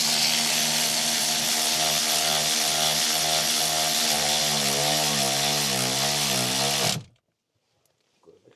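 A power tool, likely an impact driver or drill, tightens the steering wheel bolts on a 2011–2014 Dodge Charger during a swap. Its steady, loud motor whine runs for about seven seconds with a rising pitch sweep, then cuts off abruptly into near silence.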